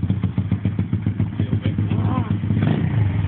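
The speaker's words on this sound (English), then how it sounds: "A little bit of throttle, just to keep the engine running." A pit bike engine runs with just a touch of throttle as a learner lets the clutch out, a steady loud chugging putter with even firing pulses and a slight rise in pitch near the end.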